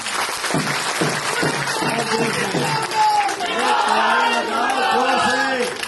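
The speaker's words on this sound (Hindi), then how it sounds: "सबसे पहले जोरदार तालियां बजाओ" A crowd at a Bihar election rally in Koda applauds, with loud clapping mixed with cheering, shouts and raised voices that swell toward the end.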